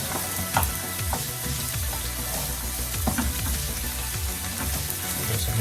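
Chopped carrots fry in a pot with a constant crackling sizzle, close and steady, while scraping stirs and light knocks of a spoon recur throughout.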